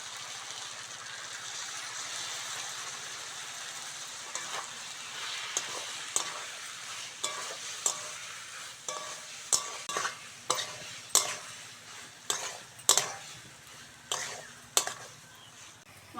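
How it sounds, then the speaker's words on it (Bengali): Potato and eggplant stir-fried in a pan with ginger-garlic paste, salt, turmeric, chili powder and a splash of water, a steady close sizzle under repeated scraping strokes of a spatula that grow sharper and more regular as stirring goes on. "মশলাটা ভালো করে কষে নিয়েছি"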